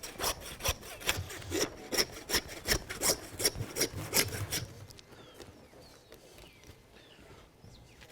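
A saw cuts through a thick slab of beef ribs in rapid, rhythmic rasping back-and-forth strokes for about five seconds, then stops, leaving quiet background with faint bird calls.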